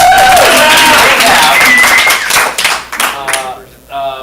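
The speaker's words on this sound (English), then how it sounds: "let's applaud them" An audience at a ComedySportz improv comedy show breaks into clapping and applause, loud at first, then thinning into scattered claps as a voice speaks over the fading end.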